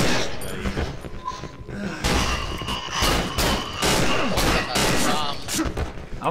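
Burst-fire gunshots in the horror game Cry of Fear, sharp loud reports in quick clusters repeating every second or so, close and punchy, with a voice speaking in between.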